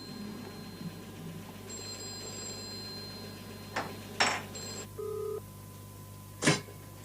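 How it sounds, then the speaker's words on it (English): A few short electronic tones and rings from a telephone, followed by sharp clicks and a brief buzz, in a quiet room. "That sounds like my phone ringing."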